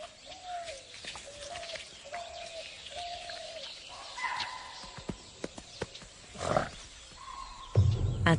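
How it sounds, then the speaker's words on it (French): A wild animal gives an alarm cry as a Bengal tiger approaches: four short, evenly spaced cries carry at moderate distance, followed by scattered clicks, rustles and a few sharper calls, with no talking. "Soudain, un cri d'alerte les perturbe."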